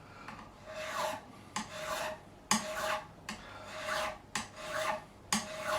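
A file skims a high fret on a Gibson Les Paul Standard in a series of about seven rasping strokes, each a short gritty scrape, close and fairly loud with brief pauses between and no talking.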